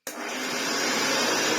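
A 1970s Hoover Senior 6525c upright vacuum cleaner, rescued from scrap and running with its hood off, switches on abruptly. It settles into a loud, steady, close motor roar with a broad whooshing hiss that holds without a break.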